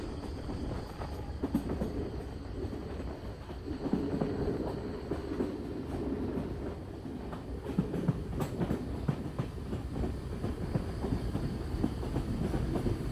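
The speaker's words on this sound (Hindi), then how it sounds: "Heavy loaded BCN rake EMD के साथ, फुल स्पीड फुल टोटल।" A heavily loaded BCN freight rake hauled by an EMD locomotive passes at full speed, a sustained rumbling roar with steady rhythmic wheel clatter and occasional sharp metallic clanks, loud and continuous throughout.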